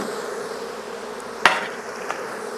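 Honey bees hum around an opened hive during an inspection, a soft continuous buzz close by, broken by a sharp tap and a smaller knock from hive tools.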